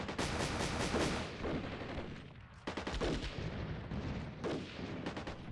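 Artillery shelling in the Scandinavian campaign of the Armored Brigade II war game: repeated rolling blasts and rapid gunfire bursts in several loud clusters, continuous and dense without any voices.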